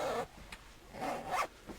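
A clothing zipper on a garment being checked at a resale shop, pulled in a few short, close rasping strokes separated by brief pauses.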